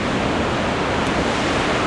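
Broad, steady wash of ocean surf at the beach in Anglet in calm early-morning conditions, a constant loud hiss of waves with no talking.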